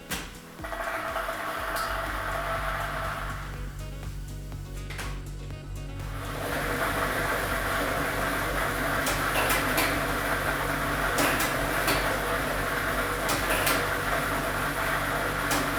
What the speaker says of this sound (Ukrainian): Тиражна комісія до початку гри довільно обрала лототрон Б комплект кульок номер 2 І ми вмикаємо лототрон.